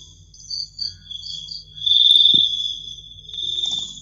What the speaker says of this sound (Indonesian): Anda masuk hanya untuk mendengarkan suara jangkrik aja bro.